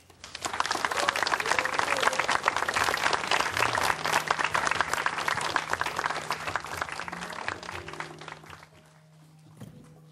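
Lecture audience greets a sociology professor with loud, dense applause that swells quickly, holds steady for several seconds, then thins out and fades near the end.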